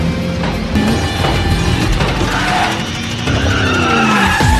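Cars from the 2008 film Death Race skid as the race starts, with loud, close tire squeals and screeches over revving engines that sweep up and down.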